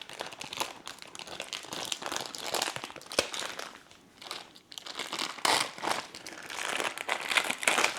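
Plastic packaging around a ribeye steak is cut open and handled close up, giving continuous crinkling and crackling with a short lull partway through.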